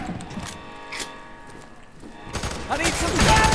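Short flurry of automatic gunfire from a gun being sprayed in the shooter game Fear 3, building from scattered sharp cracks into a louder close burst near the end, with speech mixed in.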